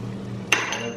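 A single sharp metallic clank of a pan against the stove rings out briefly over a low background hum.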